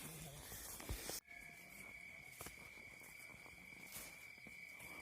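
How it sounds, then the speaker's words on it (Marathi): A steady high insect trill runs throughout, crickets chirping at night on the Chakdev trek, faint and distant, after a brief burst of louder noise at the start. "रातकिड्यांचा आवाज आहे"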